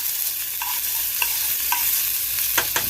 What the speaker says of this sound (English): we're going to go ahead and put a little bit of butter in here